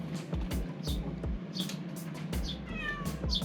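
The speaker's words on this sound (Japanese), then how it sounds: "猫が反応。" A house cat meows several times nearby, reacting to a sparrow outside, its short calls repeating over a steady low background hum, with a few faint chirps mixed in.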